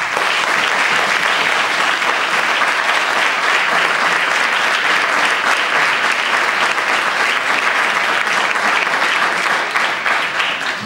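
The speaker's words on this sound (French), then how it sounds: "je veux vraiment une ovation pour Pierre-Louis Bonjolet" Crowd at a 2014 Bastia municipal election rally gives a sustained ovation, dense loud applause holding steady without pause for about eleven seconds.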